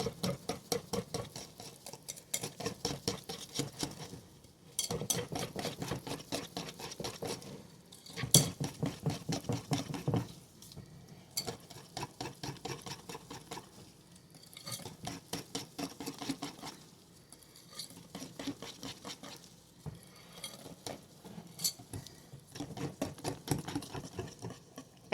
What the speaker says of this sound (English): Now we're going to go in with our whisk. Make sure we're scraping everything off.